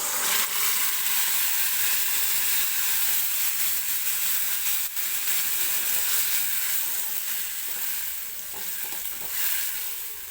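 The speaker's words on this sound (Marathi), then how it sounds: "हलकासा गोल्डन होईपर्यंत हा लसूण तेलामध्ये भाजून घ्यायचा" Garlic fries in hot oil for a lentil dal tempering, giving a loud, continuous sizzling hiss with occasional light stirring scrapes and small pops, and no talking.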